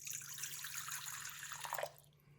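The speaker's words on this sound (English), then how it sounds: "the first step is that we're going to add half of the water" Water poured into a bowl for gluten-free pizza dough, a soft steady trickling stream running nearby and then cutting off abruptly near the end, leaving quiet room tone.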